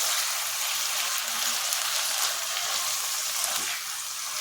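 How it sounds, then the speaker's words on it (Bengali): Soaked Gobindobhog rice sizzling as it is fried in a pan, a steady, even hiss of crackling oil that holds close and constant with no voices. "এবার এই চালটাকে এর সাথে একটু ভালো করে ফ্রাই করব।"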